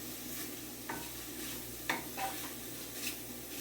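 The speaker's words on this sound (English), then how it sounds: "see the mushrooms cooking up as well" King oyster mushrooms sizzle softly in a pan for a jerk wrap, a faint steady fry broken by a few light stirring scrapes.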